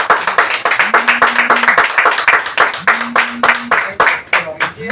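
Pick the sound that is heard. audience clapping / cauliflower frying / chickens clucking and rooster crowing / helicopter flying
audience clapping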